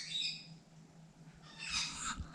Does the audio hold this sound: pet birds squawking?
yes